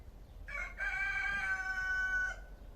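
A rooster crows once in a garden, a loud, close, drawn-out cock-a-doodle-doo lasting nearly two seconds with a brief break near the start, heard alone against quiet outdoor background.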